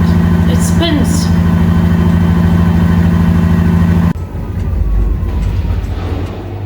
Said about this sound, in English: I put the same jacket back right after cleaning the drain and it spins.